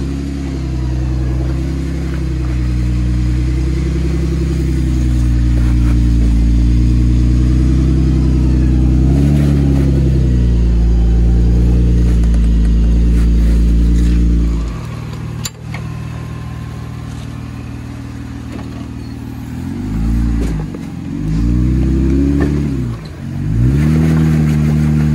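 An off-road vehicle crawls over a rocky trail at Tackett Creek. Its engine is a loud, close, steady rumble that eases midway, then revs up again in uneven surges as it climbs over obstacles.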